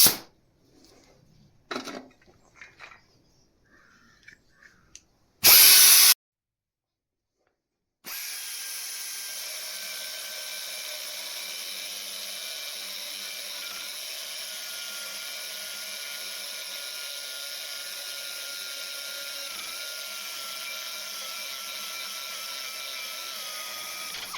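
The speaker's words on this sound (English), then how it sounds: "we're going to take an air tool, refine that up a little bit, hopefully grind through the delams and have some solid metal" A pneumatic air tool grinds a forged steel spike, starting with a brief burst, then a long, steady, high-pitched whine that runs unbroken for about sixteen seconds at close range.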